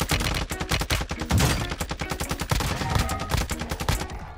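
Dense, rapid automatic gunfire in a Call of Duty shooter, sustained bursts of close shots hammering continuously with no pauses and no talking over them.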